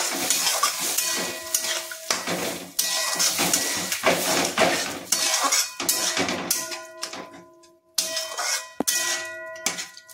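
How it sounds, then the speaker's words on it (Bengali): Tadka dal being mixed in a cooking pot, with repeated close scraping and clinking strokes of a spoon against the metal in uneven bursts and brief pauses, plus a light sizzle underneath. "এবারে আমি দিয়ে দেবো ডালটাকে, তড়কার ডালটাকে দিয়ে দিলাম। দিয়ে এবারে আমি ভালো করে মিক্স করে নেব।"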